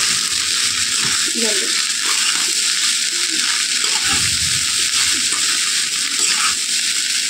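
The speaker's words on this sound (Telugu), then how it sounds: "ఈ ఎగ్ అంతా దీనికి బాగా పట్టేలాగా వేయించుకోవాలన్నమాట" Egg frying in oil in a pan for homemade chicken fried rice, a steady broadband sizzle running throughout with faint scraping and stirring touches, close and fairly loud, with no talk over it.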